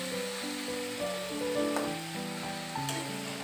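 Bitter gourd and potato frying in a pan, a continuous close sizzle with clattering scrapes as the pieces are stirred, no talking.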